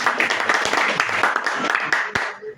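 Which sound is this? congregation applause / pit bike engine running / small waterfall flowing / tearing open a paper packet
congregation applause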